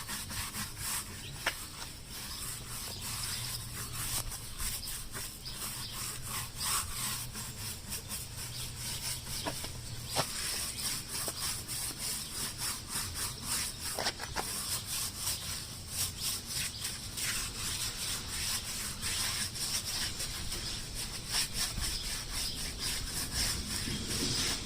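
Stiff brush scrubbing a car wheel and tire, a continuous rough rasping of rapid back-and-forth strokes, close and steady for the whole stretch with no talk.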